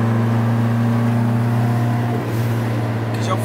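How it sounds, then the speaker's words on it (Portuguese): A car engine holds steady revs in fourth gear on a mountain road, a loud constant drone from inside the vehicle with a brief dip in pitch near the end. "Dá uma seguradinha do motor."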